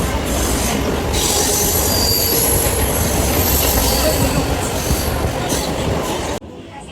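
A Mumbai local train runs near Grant Road, a loud continuous rumble of wheels on rails with high squealing, heard from on board, stopping abruptly just before the end.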